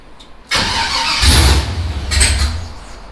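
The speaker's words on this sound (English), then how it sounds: "I'll see if it'll do a hot start, if it will start on its own nicely." A truck engine cranking for a hot start in a shop, beginning abruptly with a loud whirring crank that swells into a rough, rumbling catch before it fades.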